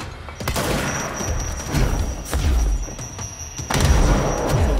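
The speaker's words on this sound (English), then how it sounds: "That's a lot of grenades" Grenade explosions in the video game Control, a series of heavy booms and blasts in quick succession, loud and close, with layered gunfire between them and no talking.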